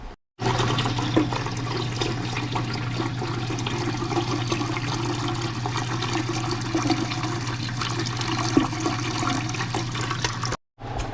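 Tap water runs steadily into the bottom of a pressure canner pot, filling it to about 2.5 to 3 inches: a close, continuous rushing pour lasting about ten seconds under a low hum, with no talk.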